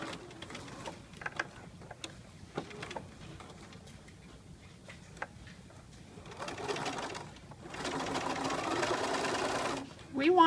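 A sewing machine bastes a lapped zipper onto fabric, with the needle set to the far left and the presser foot at the fabric edge. Several short bursts of stitching build into a steadier, louder run near the end, close and clear.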